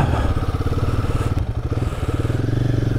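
A Royal Enfield Guerrilla 450 motorcycle engine pulses with a steady, loud mid-pitched thump while riding on dirt, the throttle opening up, with a brief clattery rise partway through.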